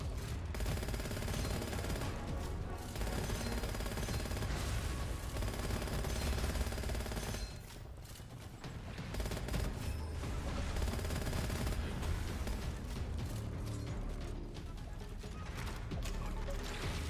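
Dense, continuous video game gunfire in Gunfire Reborn, rapid automatic bursts layered with impacts and mechanical effects, loud and sustained with brief lulls.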